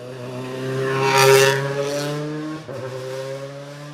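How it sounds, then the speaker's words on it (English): A WRC rally car on a Rally Finland stage passes close by, its engine note rising to a loud peak and then dropping with a brief gearshift dip before pulling away, with no talk over it. "Let's have a little watch of this car coming this way."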